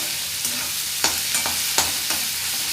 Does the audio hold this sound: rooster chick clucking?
no